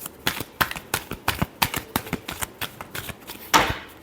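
Tarot cards shuffled by hand in a series of quick crisp riffling snaps, about a dozen sharp flicks in steady rhythm, close and fairly loud, ending in a broader rustling burst as the deck is squared.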